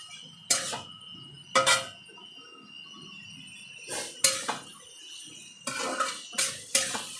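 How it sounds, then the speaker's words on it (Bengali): A spoon stirs potatoes in a pan for a Bengali tangra fish chochhori, giving several separate metallic scrapes and clinks spaced over a few seconds against quiet kitchen background. "এবার আলুগুলো দিয়ে দিলাম, দিয়ে ভালো করে এর সাথে নাড়াচাড়া করবো।"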